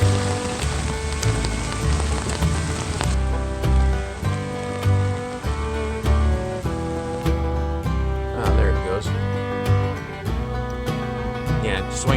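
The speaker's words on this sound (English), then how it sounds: "getting hit by hail." Hail drums steadily and loudly on a Jeep's roof and body in Oklahoma, a dense patter of impacts that carries on through the whole stretch alongside a low rumble.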